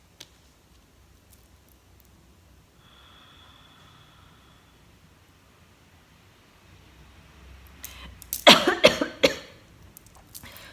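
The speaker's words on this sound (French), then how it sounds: "ça me fait tousser." A burst of several harsh coughs near the end, loud and close, following a stretch of near silence with faint background hiss.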